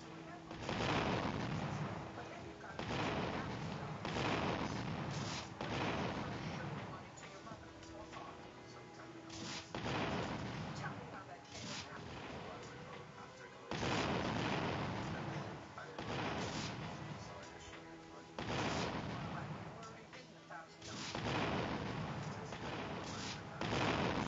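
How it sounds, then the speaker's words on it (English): Rocket launcher blasts in the Roblox video game go off as loud, repeated explosions, one burst every two to three seconds across the whole stretch. "Boy, I can rocket launch you."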